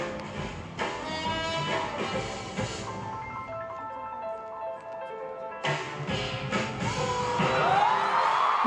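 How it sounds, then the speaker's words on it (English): A concert crowd screams and whoops over loud live music, with the cheering swelling louder toward the end. "Yes, we all scream here."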